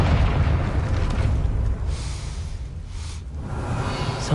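A Confringo blast spell in Hogwarts Legacy goes off as a loud, heavy rumbling boom that washes out over several seconds, with no voices over it.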